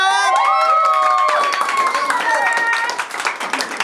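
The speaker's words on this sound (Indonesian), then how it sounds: "Tepuk tangan dong." A film crew behind the scenes of a series shoot claps and cheers together, a lively burst of applause up close under a person's drawn-out shout and chatter.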